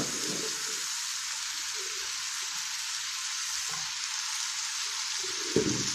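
Greens stalks and potatoes frying together in a pan, a steady close sizzle with intermittent stirring scrapes and a sharp clatter at the end, no speech.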